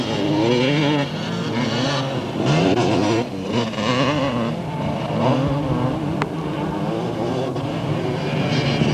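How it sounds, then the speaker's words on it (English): Motocross bikes race on the mountain course at Bathurst during the 1990 King of Dirt event, a loud continuous drone of revving engines with a commentator's voice mixed in underneath. "There's Sargent passing some of the slower traffic, bike 41 in fact"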